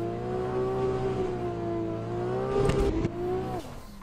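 Engine revs climb through gear changes on a BMW E92 in a racing video game, with the clutch left alone on upshifts; a loud steady drone rises in pitch, a short burst near the end, then the revs drop away.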